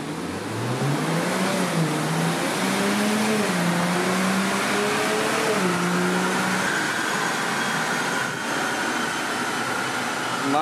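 A new Nissan Z's engine revs steadily on a dyno during a baseline run. Its loud, continuous note climbs in pitch through several gears, with brief dips at each shift, over a constant background whir.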